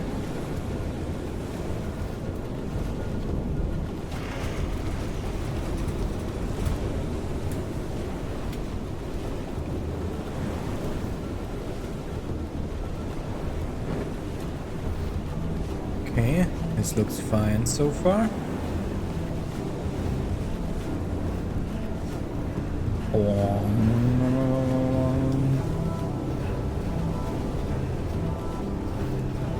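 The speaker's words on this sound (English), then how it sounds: "steering a ship over this is probably not the easiest, like with the high waves" Heavy ocean waves and wind surge around a ship being steered through a thunderstorm in the survival game FAR: Changing Tides, a constant rushing wash with creaking and mechanical clanks; someone talks briefly over it.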